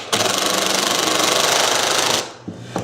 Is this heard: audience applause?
no